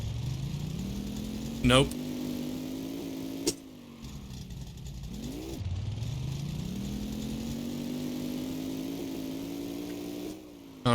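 A car engine revs hard during a clutch-pop burnout attempt with the steering wheel at full lock, a steady mid-pitched drone that rises and falls, broken by a brief sharp noise, with a person speaking briefly over it.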